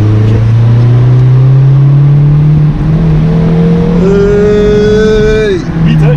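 BMW 1 Series E88 118i M Sport convertible engine revving with quick shifts, a loud close droning tone climbing steadily, then a jump in pitch and a higher whine before dropping back.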